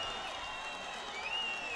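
A crowd cheers and applauds at an MMA fight just after a TKO. The roar is brief and fairly distant, a wash of claps with a few high whoops rising near the end.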